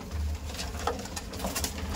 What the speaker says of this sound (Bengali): এই দেখুন আবলুক পায়রা।